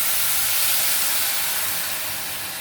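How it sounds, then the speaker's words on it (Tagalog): Water poured into a hot cooking pan erupts in a loud, broad steaming hiss that holds steady and fades slightly toward the end, close up with no talking. "Ngayon na, tapos lagyan natin ng tubig."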